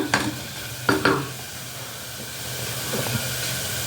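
Onion, tomato and spices sizzle steadily in a pan, with a few sharp metallic clanks of a spoon near the start over the constant frying hiss.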